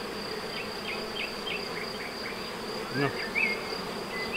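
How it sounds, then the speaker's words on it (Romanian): Honeybees hum around their hives in a countryside apiary, a steady close drone with individual bees zipping past, and a brief spoken word near the end. "Ca să poată zbura albinuțele mele și să văd eu cum crește greutatea pe cântar."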